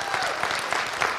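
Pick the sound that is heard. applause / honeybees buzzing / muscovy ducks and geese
applause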